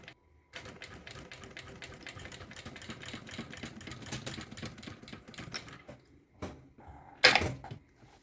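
Sewing machine stitching a tag for a maternity bag, a steady rapid mechanical whir running for several seconds, then a pause and a few short bursts near the end.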